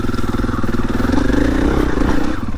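Large four-stroke Husqvarna FE 501 dirt bike engine runs steadily up close, a continuous throaty drone with slight rises in revs as the rider tackles a small double jump on a trail.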